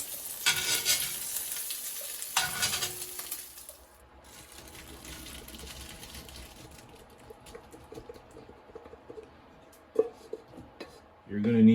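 Bacon frying in a pan while lobster mac and cheese is made, a steady crackling sizzle that fades after a loud opening, with stirring clatter and a sharp clink near the end.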